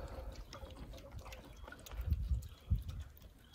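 Seedlings in seed-starting trays being watered, a gentle trickle and dribble of water soaking into the soil with a few soft splashes growing slightly louder toward the end, close by and without speech.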